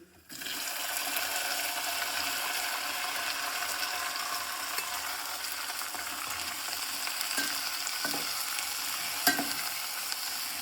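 Washed, cut eggplant and broad beans go into hot tempering in a pan and fry with a steady, loud, continuous sizzle, with a few faint clinks and scrapes toward the end.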